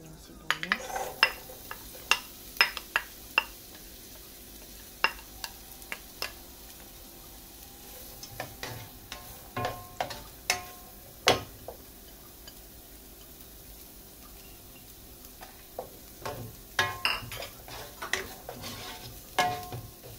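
Onions sautéing in a pan for a broccoli dish with Parmesan, cream and mozzarella, with scattered stirring clinks and scrapes of a utensil over a low, steady sizzle, no talking.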